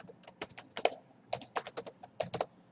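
Text being typed on a computer keyboard: irregular bursts of close, crisp key clicks, some quick runs and some separate taps, with short pauses between them.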